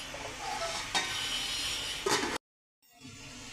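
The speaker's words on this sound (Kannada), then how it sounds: "ಈಗ ಸ್ವಲ್ಪ ಹೊತ್ತು ಫ್ರೈ ಆಗೋವರೆಗೆ ಬಿಡಬೇಕು" Okra fries in a pan with about two tablespoons of oil for chutney, a steady close sizzle with a couple of stirring scrapes before it cuts off and quieter frying resumes.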